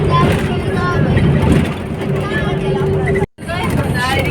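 A moving bus rolls along near Nalbari in Assam, its steady engine drone and road rumble filling the cabin, with a murmur of passenger chatter beneath and a brief dropout near the end.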